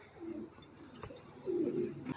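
Pigeons kept for a pigeon-selling business in Pakistan give two soft, close coos a second apart over quiet background.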